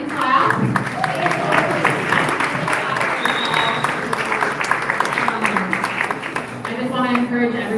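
Audience applause at a downtown neighborhood forum: steady clapping from a crowd lasting several seconds, with voices heard through it.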